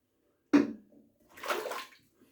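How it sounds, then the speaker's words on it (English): Water splashed onto the face after a wet shave: a sharp close splash, then a softer, longer wet patting and sloshing a moment later. "then why not splash a bit on like this"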